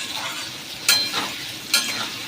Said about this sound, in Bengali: চলুন আলুটা একটু ভাজা যাক লাল লাল করে